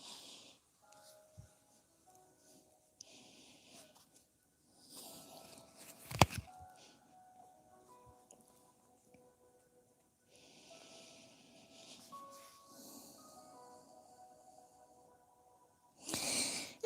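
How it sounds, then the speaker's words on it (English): Slow breathing through the nose during a yoga session sounds as faint, soft hissing breaths with long quiet pauses, and one brief sharper sound partway through. "Breathing through our nose."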